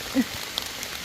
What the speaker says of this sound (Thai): ได้ยินเสียงฝนบ่ครับ